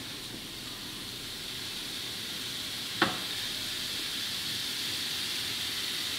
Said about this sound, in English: Y'all hear that pan sizzling?